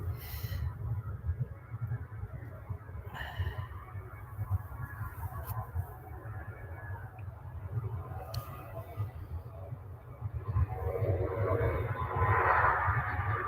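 Finnair airliner moving at Manchester Airport, a steady low engine rumble with broadband roar that swells louder toward the end, heard at a distance with no talk.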